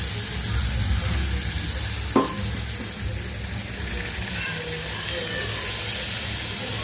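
Tomato, cumin, coriander, ginger and other spices fry in a pan over softened onion for a fish curry, giving a steady loud sizzle with a brief clatter of stirring partway through.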